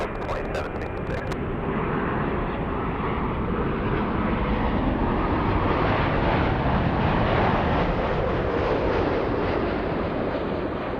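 An Emirates Airbus A380 takes off from LAX in gusty winds, a loud continuous jet engine roar that builds and holds steady for the whole span, with brief clicking at the start.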